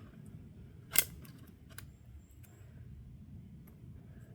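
A leuku knife chops into wood with one sharp, loud strike, followed by a couple of fainter knocks over quiet outdoor background noise.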